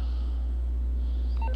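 A phone in the Grand Theft Auto video game being dialed, a short run of tones near the end of the clip over a steady low electronic hum, with no talking.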